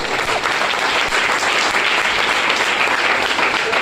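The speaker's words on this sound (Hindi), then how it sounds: "जोरदार ताली आप लोग के लिए।" Loud, dense applause from a group at a health talk, a continuous even roar of clapping with no pauses.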